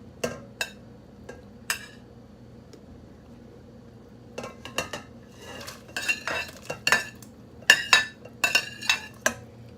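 Noodles go into hot soup in a kitchen pot, with close metallic clinks and scrapes of a utensil against cookware, sparse at first, then a busier run of stirring and tapping.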